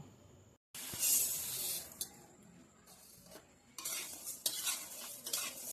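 Dough of flour, rice flour, soaked semolina, coconut, fennel seeds and salt being mixed in a bowl: close, hissing, scraping stirring sounds in bursts with brief pauses, no voices.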